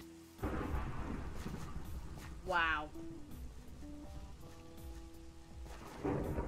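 Thunderstorm in Minecraft: steady rain hiss runs throughout, with a louder rolling thunder burst midway, while a person speaks briefly over the storm.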